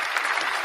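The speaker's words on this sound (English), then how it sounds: "The crowd is clapping for me" A brief burst of audience clapping at a live singing show, a dense even patter of many hands.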